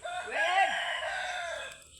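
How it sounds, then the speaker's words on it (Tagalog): Chickens at a coop, with a rooster crowing once up close amid clucking, loud and clear over quiet surroundings. "Yara among mga manok guys oh."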